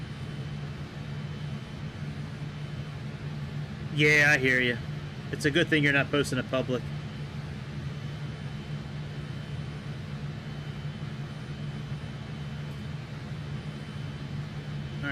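Fokker F28 jet engines in Microsoft Flight Simulator, a steady droning hum held throughout while someone talks briefly over it.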